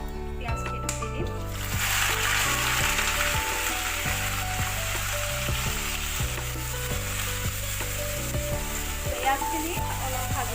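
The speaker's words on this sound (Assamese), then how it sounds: "তাত মই পিঁয়াজখিনি দি দিম।" Onions hit hot oil already holding bay leaf, cinnamon, cardamom and black pepper for a spicy mutton dish, a bright continuous sizzle and crackle under a steady humming tone that runs throughout.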